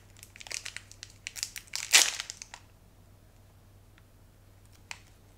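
A Pokemon card booster pack is torn open close by in a short burst of crinkly foil ripping and crumpling, then a quiet lull with one faint click.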